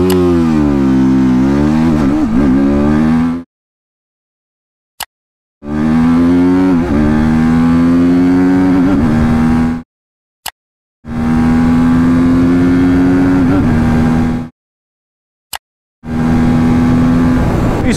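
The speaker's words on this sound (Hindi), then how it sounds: "अभी हम देखते हैं 0 to 60 और 0 to 100 कितने टाइम में करती है बाइक।" A TVS Apache RTR 310 motorcycle accelerates hard from 0 to 100. The loud, close engine note climbs and drops with each gear shift across several separate runs, divided by abrupt silences.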